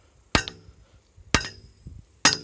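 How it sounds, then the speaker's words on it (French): Three sharp metallic hammer strikes ring out on a driven well pipe at a slow, even pace. Each one clangs crisply and then fades into near silence before the next. "c'est juste le poids du marteau."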